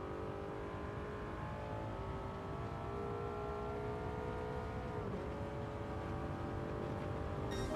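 A Ferrari engine revving in a PS5 racing game, a continuous smooth engine drone that shifts pitch partway through, steady and fairly quiet with no talking.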